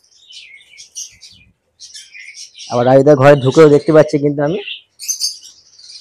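Budgerigars in a stock room chirp in scattered high, thin bursts, fairly faint, while someone talks in the middle of the stretch.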